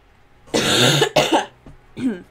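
A person nearby gives a harsh, loud cough in a burst of two or three hacks, followed by a softer throat-clearing cough.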